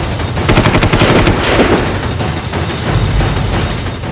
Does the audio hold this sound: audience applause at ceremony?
no